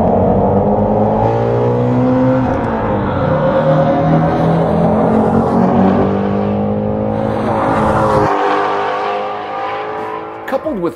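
A high-revving, naturally aspirated 8,250 RPM engine making 526 horsepower roars loudly and continuously, its pitch climbing through the revs before dropping off sharply near the end, with faint voices underneath.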